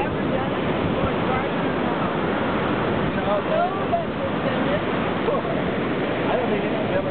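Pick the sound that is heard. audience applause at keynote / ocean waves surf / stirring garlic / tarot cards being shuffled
ocean waves surf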